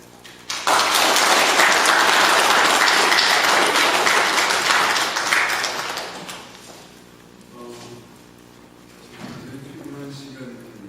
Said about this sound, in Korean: 오늘 우리 목사님 나오실 때 뜨겁게 우리 박수로 우리 맞아주시고